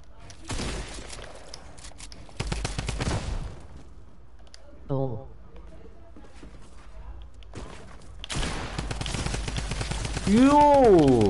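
Fortnite drum gun fire in several sustained rapid bursts, loud and close, separated by quieter gaps with a brief electronic game effect and a rising warbling tone near the end, while a person talks over it.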